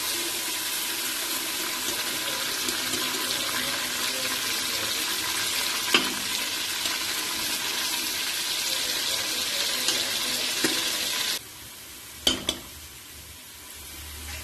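Sliced onions fry in a pan toward golden brown and crisp, a loud continuous sizzling hiss that cuts off near the end, followed by a couple of clinks and a quieter background.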